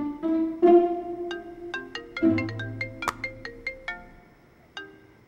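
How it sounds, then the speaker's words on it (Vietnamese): An electronic phone ringtone plays during a call, a melodic sequence of clear synthetic tones that starts with longer notes and moves into quicker plucked notes, loud and close, with no talking. "giờ gọi cho Ngọc đó"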